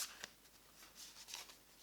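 Tarot cards being cut into three piles by hand give soft, papery riffles and slides, close and quiet, with a few brief brushing bursts and no talk.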